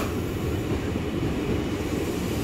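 A KRL Commuter Line electric train rumbles steadily through Manggarai station during rush hour, a loud, continuous low roar with no voices over it.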